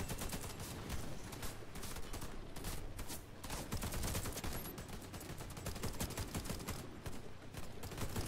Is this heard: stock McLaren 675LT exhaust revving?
no